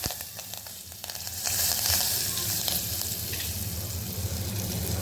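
Asafoetida and chopped curry leaves hit hot oil in a pan for a Konkani-style val birda, a dense steady sizzle that swells louder after the first second and keeps crackling, close up with no talking.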